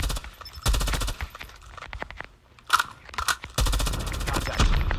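Automatic weapon fire in Call of Duty Mobile, rapid bursts of shots in several volleys with short gaps, loud and close, mixed with scattered game sounds.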